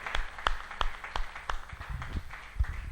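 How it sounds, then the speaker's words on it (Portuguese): A church congregation claps together in praise, a short burst of regular, fairly close handclaps over low room murmur. "Uma salva de palmas a Deus que é poderoso."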